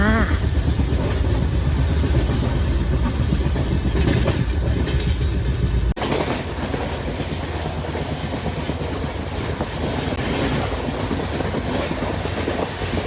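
Steady rumble of an Indian passenger train in motion from New Delhi to Chandigarh, with rattling and clatter continuing throughout and a brief jolt partway through; no voices.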